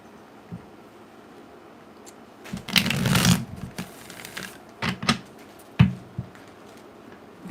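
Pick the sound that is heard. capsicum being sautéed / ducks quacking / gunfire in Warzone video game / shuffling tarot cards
shuffling tarot cards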